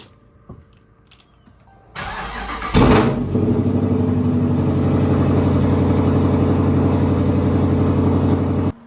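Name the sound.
Chrysler 300 Hemi engine cold start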